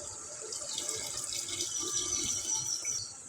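Water pours steadily into a pot of rice with a soft hissing splash, continuous and close, no voices.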